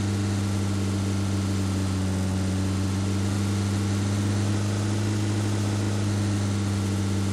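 A parked vehicle's engine idles in a video game, a steady low hum that carries on unchanged and fairly loud from start to finish.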